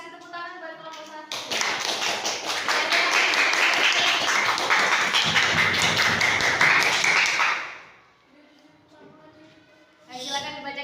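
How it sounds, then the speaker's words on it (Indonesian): Students in a classroom clap for a group, loud rapid hand claps in a sustained burst of several seconds that stops abruptly, with a teacher talking before and after. "Kasih tepuk tangan buat kelompok 1."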